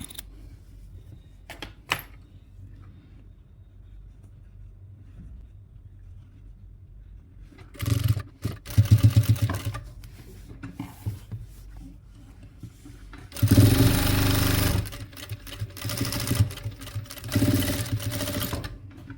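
A sewing machine stitching a doormat made from leftover cloth, running in short rapid bursts with quiet gaps between them, close and fairly loud.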